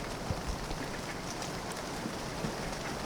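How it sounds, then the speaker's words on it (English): A rain recording plays through a Music Thing Modular Workshop System synth as a dense, steady hiss of falling rain and pattering drops, fairly loud and continuous with no voices. "The rain is getting a little more intense now."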